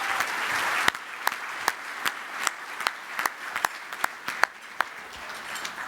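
Applause at an annual awards luncheon honouring a man whose life was saved, a steady bed of crowd clapping with distinct sharper claps popping out at irregular intervals, moderately distant and continuous throughout.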